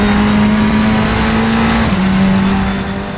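SR10 XXR race car in the Assetto Corsa game accelerating hard, a loud steady engine drone that shifts pitch once mid-run, with a faint tyre squeal beneath.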